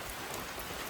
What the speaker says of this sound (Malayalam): മഴ പെയ്തു കേട്ടോ.